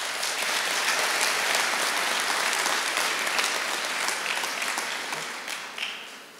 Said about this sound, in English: Give yourselves a round of applause for what you have been able to accomplish.